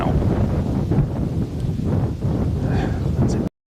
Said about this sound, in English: That's a gust. Gusty breeze picks up.